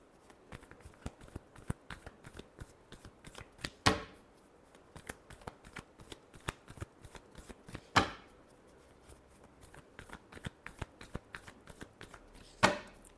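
Tarot cards shuffled by hand, a steady run of quick papery riffles and flicks with three sharper slaps as the deck is squared, close and fairly quiet, with no talking.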